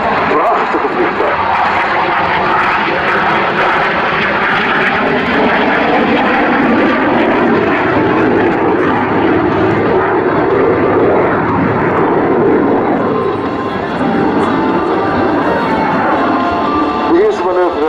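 A Czech Air Force L-159 jet trainer's engine roars steadily and loudly overhead for the whole stretch during a flying display at the Luchtmachtdagen 2014 air show, with a voice talking in Dutch beneath the noise.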